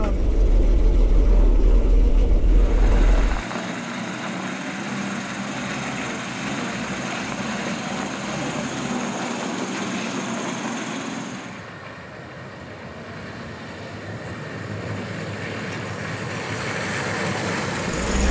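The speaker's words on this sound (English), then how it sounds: "No one in the cabin will hear me, because the engine is roaring loudly" An RAF 251 bus engine roars steadily from inside the cab as the driver shifts gears, a loud continuous drone with a heavy low thump at the start and a brief dip midway, voices talking over it.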